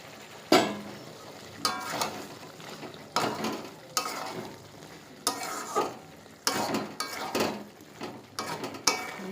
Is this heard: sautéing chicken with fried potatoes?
yes